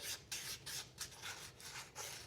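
Fine 1000-grit sandpaper rubs back and forth on a wooden jaw harp in quick, regular rasping strokes, about nine passes, close and fairly soft with no talk.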